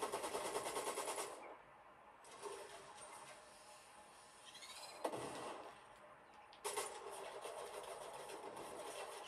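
Rapid automatic gunfire in a video game rattles in dense, loud bursts, stopping briefly in the middle around a single sharp shot before resuming just as heavily.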